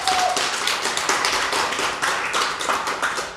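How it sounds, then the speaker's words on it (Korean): An audience at an indoor consumer meeting applauds after a talk, a dense, steady patter of many hands clapping at moderate loudness, with no talking. "다시 한번 큰 박수로 응원해 주십시오."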